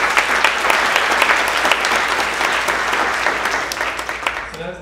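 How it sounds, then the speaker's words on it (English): Conference audience gives a full round of applause for a speaker who has finished her book manuscript: dense, continuous clapping, fairly loud and even throughout, with a voice starting up faintly right at the end. "maybe we could do a round of applause for that"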